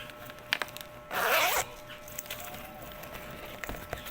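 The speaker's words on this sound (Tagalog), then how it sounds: "titingnan natin yung zipper." A zipper on a cheap shopping bag is drawn open in one quick rasping pull lasting about half a second, close and clear, with a few small handling taps before and after.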